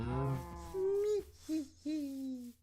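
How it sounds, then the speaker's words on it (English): A cow in a video game lets out several drawn-out moos in succession, the first low and rough, then three shorter, tonal lows with brief gaps, close and clear. "How the cow escape?"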